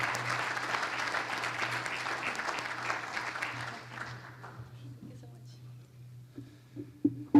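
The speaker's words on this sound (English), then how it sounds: "So let's give another applause for Chase Oliver" A conference audience applauds for Chase Oliver, a dense sustained clapping that fades after about four seconds into scattered claps and room noise, with a steady low hum running underneath.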